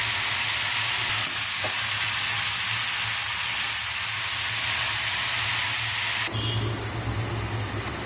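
Aar fish fries in a pan for a Bengali shukto, a constant close hissing sizzle with steady spitting that briefly shifts in tone near the end, no voices over it.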